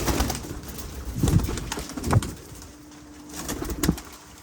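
A pigeon coos several times, soft throaty calls spaced a second or so apart, with faint rustling and a low hum behind.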